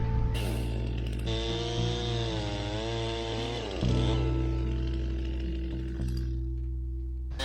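A chainsaw cuts through overstood hazel coppice stems on a derelict stool, running loud and steady throughout with the engine pitch dipping and rising as the chain bites into the wood.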